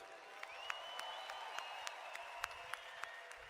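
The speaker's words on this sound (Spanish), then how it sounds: "Give them all a big round of applause." Distant applause with scattered sharp claps rises over a steady hum of crowd noise, faint and far off.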